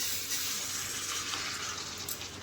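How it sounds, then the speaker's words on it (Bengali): Mixed vegetables being added to a pan of warm water, giving a soft, steady hiss and bubbling with faint splashy texture throughout, quiet and even with no voices. "এবার আমি সবজিটা অ্যাড করে দিচ্ছি"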